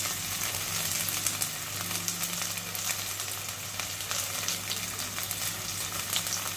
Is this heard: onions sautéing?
yes